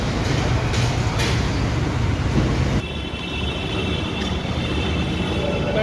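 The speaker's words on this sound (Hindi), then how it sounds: "इस समय हम लोग हैं सिंघानगर मेट्रो स्टेशन पे" Rumbling train noise at Singhanagar metro station in Varanasi, a steady, loud, broadband roar that eases slightly partway through, with no talk over it.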